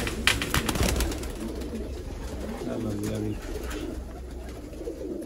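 Pigeons cooing steadily close by in a Sialkot loft, a dense run of coos lasting the whole stretch, with some voices and clatter early on.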